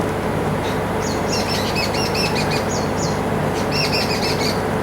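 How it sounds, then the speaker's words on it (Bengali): Birds calling in repeated high chirps and calls overhead as a flock of cranes flies past, heard over a steady, loud wash of outdoor background noise. "আকাশের দিকে তাকিয়ে দেখুন পাখি উড়ছে তো সব সারস পাখি উড়লো উড়ছে"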